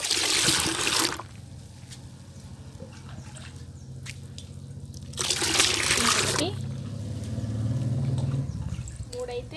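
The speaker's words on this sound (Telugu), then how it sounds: "ఇంకొక జగ్ అయితే పోసేస్తున్నాను ఇంకా కలపాలి" Water pours from a jug into leftover dosa batter, thinning it into a liquid for plants, in two gushing bursts separated by a quieter stretch, with a low voice running underneath.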